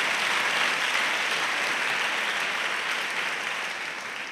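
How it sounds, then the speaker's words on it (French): Sustained applause from an audience gathered for a conversion testimony, a dense even wash of clapping that holds steady and slowly tapers toward the end, with no voice over it. "Clap for that."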